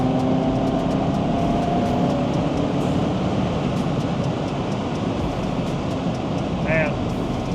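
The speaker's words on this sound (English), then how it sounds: "Like a fifth gear pull, Let's just see." A Ford Focus RS pulls in fifth gear on a road trip, a steady engine drone blending with heavy road and wind rush inside the cabin, loud and unbroken throughout.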